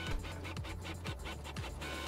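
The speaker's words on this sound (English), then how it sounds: "I'm printing." A printer runs nearby, its print head sweeping back and forth in a steady mechanical rhythm of repeated whirring passes with no voices.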